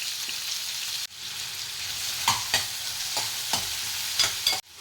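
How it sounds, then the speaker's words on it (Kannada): Garlic, onion and tomato frying with cumin, sesame and curry leaves in hot oil for egg curry, a steady close sizzle broken by several sharp stirring scrapes. "ಬೆಳ್ಳುಳ್ಳಿ, ಈರುಳ್ಳಿ, ಟೊಮೆಟೊ ಇದಿಷ್ಟನ್ನು ಹಾಕಿ ಚೆನ್ನಾಗಿ ಇದನ್ನು ಫ್ರೈ ಮಾಡ್ಕೊತೀನಿ"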